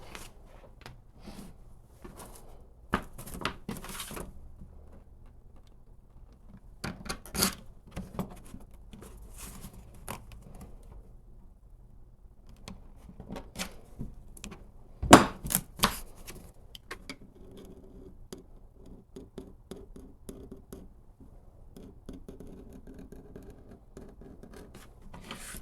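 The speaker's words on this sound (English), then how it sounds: "now I'm cutting it out with a razor knife" A razor knife slices through leather while a knife sheath is cut out, giving soft, intermittent scraping and rasping strokes with occasional sharper taps and clicks, close up and fairly quiet, with no talking.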